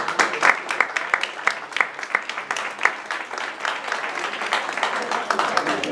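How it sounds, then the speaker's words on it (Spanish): Audience applause at a monthly poetry evening, a dense run of many hands clapping at moderate loudness for about six seconds, with a few louder claps standing out near the start. "Un aplauso para él"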